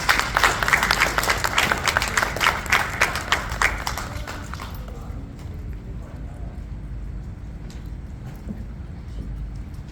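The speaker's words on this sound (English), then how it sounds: "A round of applause, please." Applause at a community outreach gathering welcoming a guest to the high table, a dense crowd clapping for about five seconds before breaking off into quiet room noise.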